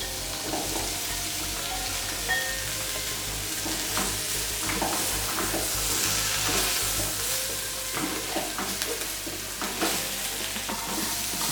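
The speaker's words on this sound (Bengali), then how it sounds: "ক্যাপসিকাম বা বেল পেপার খুব সহজেই ফ্রাই হয়ে যায়" Capsicum (bell pepper) and pre-boiled baby corn fry in a pan with a steady, close sizzle, broken by the scrape and rustle of stirring throughout; no one speaks.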